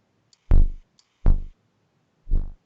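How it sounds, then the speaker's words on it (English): An original Roland 808 bass drum sample plays three times alone, each a deep booming thump with a sharp attack and short decaying tail, evenly spaced and clear. "That's the original 808 that I turned into the kick."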